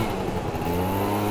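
A 50cc four-stroke scooter with its original cylinder runs close by, its engine droning steadily with a slightly rising pitch and a faint mechanical clatter underneath, and no voices over it.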